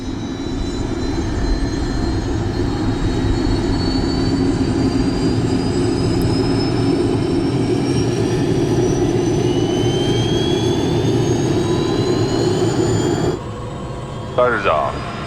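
Helicopter turbine engine starting, a loud steady roar with a rising whine that holds for most of the time, then drops sharply near the end, leaving quieter engine noise.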